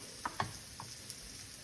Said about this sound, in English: That's that nice sizzle that I was looking for.